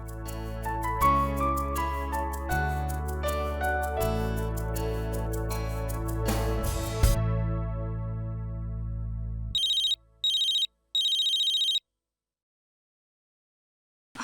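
A phone ringtone plays a loud melodic musical phrase for about ten seconds, followed by short bursts of high electronic ringing with silent gaps.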